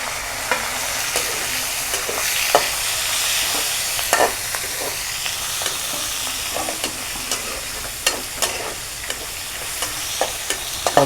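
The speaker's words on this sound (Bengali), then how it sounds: "এখন এখানে একটা টমেটো কুচি দিয়ে দিব।" Chopped tomato fries in hot oil seasoned with browned spices, giving a dense, constant sizzle with repeated stirring scrapes and clinks at close range.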